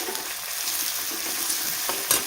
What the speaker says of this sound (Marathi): आणि हे छान मिक्स करून घेऊया